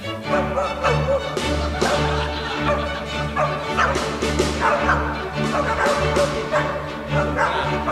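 Dog barks and yips performed within a classical music piece, repeated bursts over orchestral tones, loud and rhythmic, with the music continuing under them.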